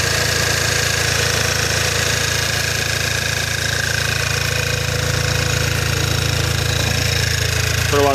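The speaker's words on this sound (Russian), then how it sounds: "Звук такой, как будто что-то трет" Skoda Octavia A5 engine running with a rubbing squeak, heard close up as a loud, steady mechanical drone with a continuous rhythmic knock and a faint squealing, rubbing tone above it. No talking.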